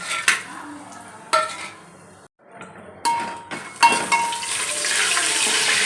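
Whole spices and bay leaf for mutton biryani tip into hot oil in a pot: scattered clatters and stirring scrapes with a rising crackle of frying that grows louder and steadier toward the end, no talking.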